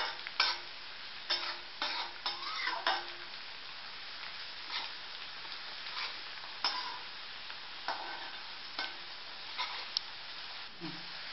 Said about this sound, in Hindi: ये देखिए कैसे भून लें प्याज को इस तरह से